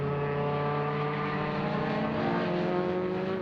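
Race cars, including a Porsche and an Opel Corsa, lap the Rudskogen circuit, a steady droning engine roar with strong tonal harmonics held at an even level throughout.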